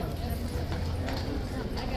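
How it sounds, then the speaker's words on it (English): A loose horse clops its hooves on a city street outside a guard post, the hoofbeats steady and close amid busy street noise and nearby talk. "I could definitely hear the clopping, so my money's on the horse coming or having come back out of the box again"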